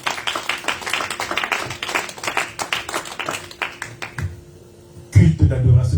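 Congregation clapping and calling out in acclamation at a Sunday church worship service, dense rhythmic handclaps mixed with voices, a brief lull, then a loud burst of cheering and clapping at the end.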